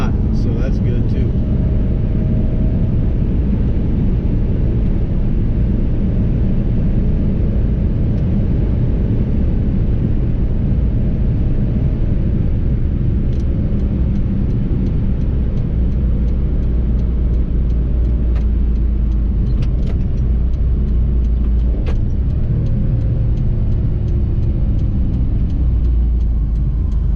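A 1991 Honda Acty kei truck driving, with a loud, continuous low engine and road rumble inside the cab throughout and a voice talking over it.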